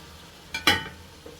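Beef curry with coriander leaves in a pan gives two quick sizzling scrapes close up as it is stirred, followed by a faint tap.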